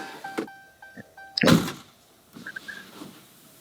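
A solid car door thunk on a salvage Dodge Hellcat in the middle, surrounded by soft electronic beeps and faint clicks, fairly close and otherwise quiet.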